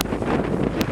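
Strong wind roars across a sailboat at sea while sailing against it, a loud continuous buffeting rush close to the microphone with brief gust peaks.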